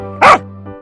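One sharp, loud dog bark rings out alone over a steady low musical tone, followed by a brief faint echo-like tail.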